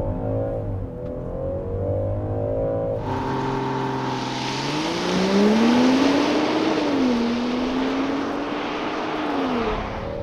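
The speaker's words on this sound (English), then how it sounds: "this thing rips for being a building" A 2023 Land Rover Defender 130 P400 First Edition accelerates hard without launch control, its engine climbing from idle into a loud, rising roar that sweeps up and shifts through gears, heard from inside the vehicle.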